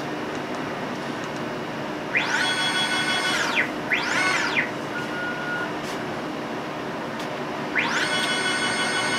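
The motorized stage of a non-contact lens center-thickness gauge travels up and down, producing three rising-and-falling whirring sweeps over a steady mechanical hum.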